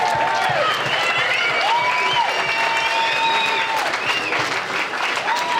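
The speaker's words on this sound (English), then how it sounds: "So everybody just give a round of applause to this man right here" A crowd at an anniversary ceremony claps steadily and loudly for several seconds, with scattered cheers and whistle-like calls rising above the applause and some voices mixed in.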